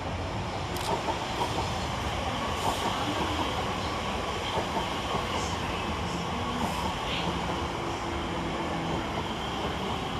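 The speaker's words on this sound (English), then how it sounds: "Next train in is 345013, arrived with the 1956 TfL rail service from London Liverpool Street to Shenfield." Class 345 electric train 345013 arriving at Stratford station on a London Liverpool Street to Shenfield service, a loud, close, continuous rumble with wheel clatter and squeals throughout.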